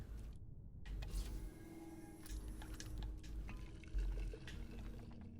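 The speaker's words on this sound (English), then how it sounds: "And pour the worm juice on" Worm juice being poured in the puzzle game Can of Wormholes, a soft, wet gurgling pour with squishy textures and small clicks, quiet and steady with a few louder swells.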